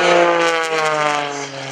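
Aerobatic airplane flown by Gary Ward at the Greenwood Lake airshow, its engine giving a strong harmonic drone that wavers and fades slightly as the plane rolls, close and loud, heard alone.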